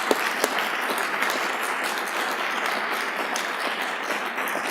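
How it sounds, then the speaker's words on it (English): An audience at an award ceremony applauds the winners with a dense, steady roar of clapping, moderately loud and without speech. "One more round of applause for all of our winners"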